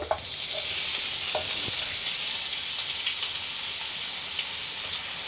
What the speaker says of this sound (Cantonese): 咁我呢段時間我就車嗰啲龍躉骨落去啦